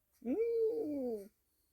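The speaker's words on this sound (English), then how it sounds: "Obligatory case of you with a snort and a yawn. And another snort." A pet cat gives a short, breathy, voiced yawn-like sound lasting about a second, close and fairly loud, in a quiet room with no talking.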